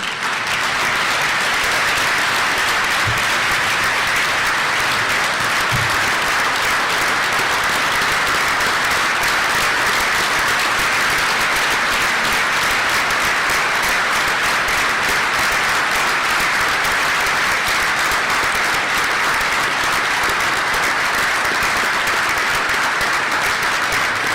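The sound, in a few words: audience applause for the Boyd Gold Star family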